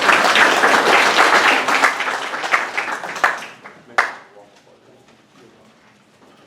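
A school audience welcomes the principal with loud, full applause that thins out after a few seconds into a few scattered final claps, then fades toward quiet as a voice begins.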